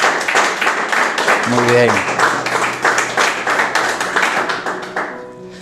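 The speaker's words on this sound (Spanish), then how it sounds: "dale un fuerte aplauso a Dios." A church congregation clapping during a sermon, brisk rhythmic applause from many people that slowly thins out, heard alongside a voice speaking over it.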